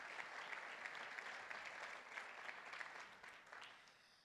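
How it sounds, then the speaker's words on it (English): Conference audience at a brand summit applauding the event's advisors, a dense sustained wash of many hands clapping that holds steady, then thins and fades toward the end. "So just a nice round of applause for all of our Summit advisors who made this possible."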